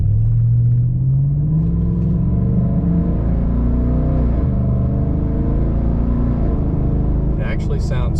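Loud, deep exhaust rumble from a car with its exhaust tips cut off, a steady low drone with slight revving swells throughout, close up and continuous, with a brief click near the end.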